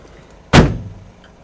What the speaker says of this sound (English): We shut the door